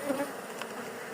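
Honeybees from a weak two-frame colony drone in a hive, a steady close buzz that holds without a break.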